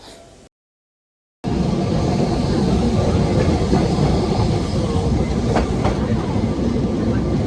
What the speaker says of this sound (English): it also includes a tram ride, like the very popular tram 28